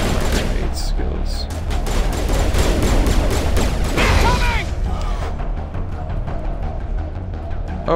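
Grenade blasts and heavy gunfire in the Mass Effect video game, a dense, loud barrage of booms and shots that gradually thins into a fading rumble.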